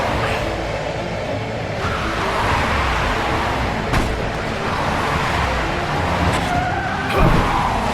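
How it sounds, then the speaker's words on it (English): Car chase in The Wolf Among Us game: a continuous loud roar of engine and road noise with tire skids and a couple of sharp impacts, sustained throughout without talk. "In a car chase and stuff."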